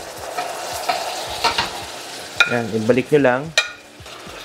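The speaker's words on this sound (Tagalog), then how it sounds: "Haluin nyo lang maigi." Beef with onion, garlic and tomato paste is stirred in a sizzling pan for beef caldereta: scraping, clattering strokes over constant frying, with a person speaking briefly partway through.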